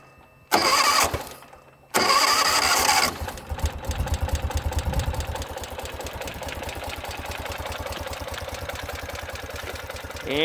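A 2018 Ural sidecar motorcycle with a fuel-injected engine cranks in two short bursts, catches, and settles into a steady, close, rhythmic idle that runs on evenly without talk, in cool outdoor air.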